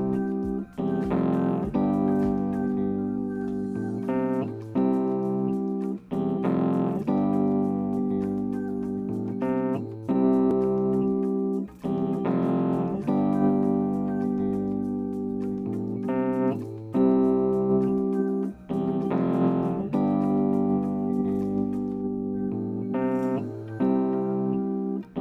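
Music played back in Logic Pro X as its tempo eases from 90 down to 70 BPM, a steady sustained mix with rhythmic chord hits repeating throughout, loud and alone with no talking.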